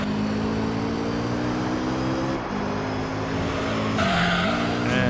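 A race car in Gran Turismo 3 with a steady, droning engine whine and tire noise, a brief dip in pitch, then a harsh scraping rise near the end as it slides into a guardrail.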